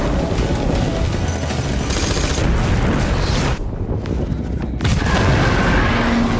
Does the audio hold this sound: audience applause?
no